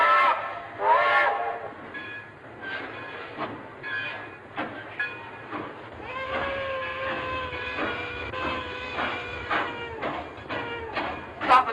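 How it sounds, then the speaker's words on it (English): A steam train in a 1932 film sounds repeated short whistle blasts, then a longer sustained whistle, over a chugging rhythmic rail clatter at moderate distance. "Stop the train immediately."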